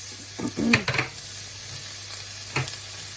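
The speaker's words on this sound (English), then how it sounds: "You hear that sizzling away" Vegetables for carrot and lentil soup hit hot oil with a sudden burst of sizzling and a few stirring clatters, then settle into a steady low hiss with another brief stir later.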